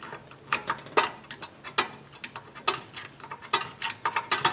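Star wheel of a rear brake adjuster on a 2018 Nissan Altima being turned with a screwdriver, giving a series of close, sharp ratcheting clicks in uneven bursts against a quiet background.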